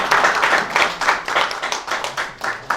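A crowd at a Sikkim school quiz event claps for a competing academy team, brisk, uneven bursts of hand claps from many people, moderately loud and close, with no talking over it.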